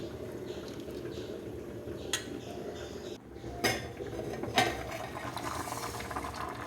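A spoon stirs bitter gourd curry in a pot on a village kitchen stove. Several sharp clinks of metal on the pot cut through a steady bubbling hiss.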